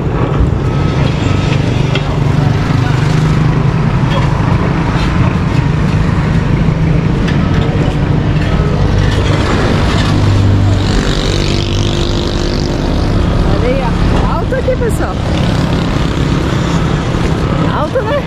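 Heavy trucks rumble beneath a high road bridge in Tete, Mozambique, a steady loud low traffic drone with engine tones and passing swells throughout, heard from up on the bridge with people talking over it.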